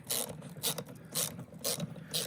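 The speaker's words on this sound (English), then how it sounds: "So I'm using a number 11 deep well with a short extension and a 3/8 Milwaukee ratchet." A 3/8 Milwaukee ratchet on a number 11 deep-well socket with a short extension tightens the airbox clamp on a 2005 Arctic Cat ATV: five rhythmic, raspy back-and-forth clicking strokes, fairly close and steady.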